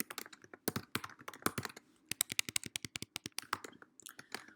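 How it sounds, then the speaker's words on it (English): Typing on a computer keyboard to enter a question into an online course tool: two bursts of rapid, close, crisp key clicks separated by a short pause, with no talking. "then I can actually type a question right in here"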